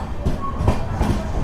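Train running into Tiruppur station, close, with a loud low rumble and a few rhythmic wheel clunks over rail joints.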